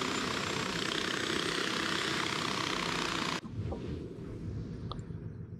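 Aircraft engine in the video game Far Cry 4 roars at a steady, loud, broadband level, then cuts abruptly to a lower, rougher hum with faint high tones as the craft lifts off.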